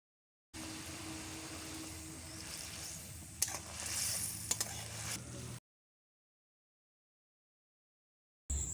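Mustard-potol curry broth bubbling in a pan, a steady low simmering hiss and burble for about five seconds, with a couple of faint clinks, then silence.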